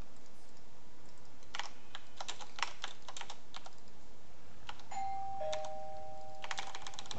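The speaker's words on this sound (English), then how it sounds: "Stop ringing my doorbell." A doorbell rings two tones near the end, faint and brief, set against scattered bursts of computer keyboard typing during a StarCraft match, with no speech.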